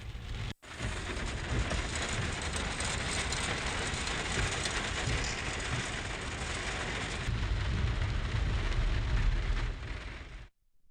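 Heavy rain pours onto Tumkur Road during a traffic jam, a dense, steady hiss of downpour on the road surface lasting throughout after a brief break near the start.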